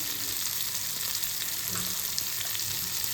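Pieces of green chilli are stirred in a frying pan, giving a constant sizzling hiss with faint scraping of the spoon beneath, close and steady, without any voices.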